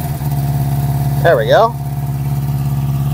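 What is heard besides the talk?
1973 Honda CB350 Four motorcycle engine idling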